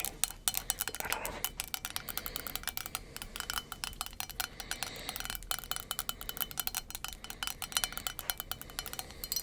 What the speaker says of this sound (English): Some lid sounds for you.